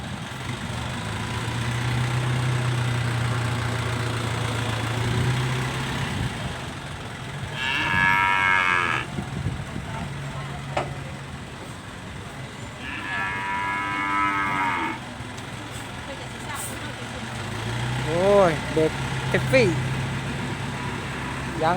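Cows moo repeatedly at an open-air cattle and buffalo market in Thailand, three separate drawn-out calls spaced across the stretch, heard over idling engines and a background of people talking.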